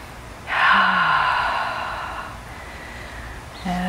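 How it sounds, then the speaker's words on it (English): A slow, deep breath drawn in and then released gradually during a guided meditation, one long soft airy exhale that fades over several seconds, heard alone and fairly close. "Breathing in really deeply, filling up our bellies, and then releasing the breath slowly."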